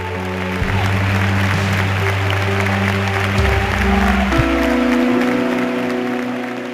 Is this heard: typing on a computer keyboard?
no